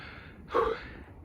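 A short, heavy gasping breath from someone walking uphill toward a tower on the mountainside edge of Tbilisi, in smoggy, hazy air. One loud, close exhalation rises out of steady background noise and then fades.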